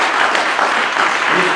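Hearty applause from a press-conference audience greeting elite XTERRA World Championship 2022 triathlon race champions, dense steady clapping from a crowd throughout the short burst.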